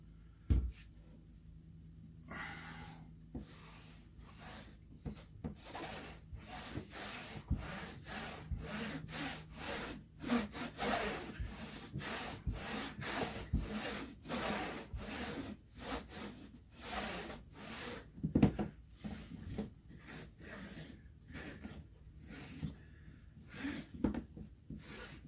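Microfiber cloth rubbing Resolene finish onto leather in repeated quick, scratchy back-and-forth strokes, close and steady, with no talk.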